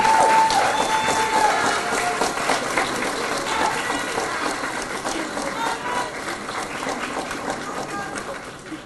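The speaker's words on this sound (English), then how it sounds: "give a really big applause to the parents and everybody who supported you" A crowd claps steadily and loudly, a dense wash of applause that slowly fades toward the end.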